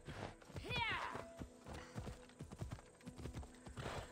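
Horse hooves in the Assassin's Creed Odyssey video game: a steady clip-clop of galloping hoofbeats, close and fairly faint, with a brief whinny near the start and a player talking over it.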